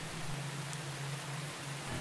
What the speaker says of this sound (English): there was only the sound of the rain that fell gently down the street